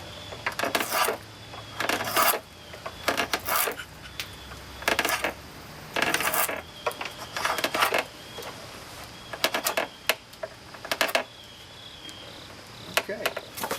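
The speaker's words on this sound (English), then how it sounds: "right now I'm going to smooth this down, and I do that with the draw knife." Draw knife smoothing a wooden chair handhold in a workshop, repeated short scraping strokes in an irregular rhythm, close and fairly quiet, with small pauses between passes.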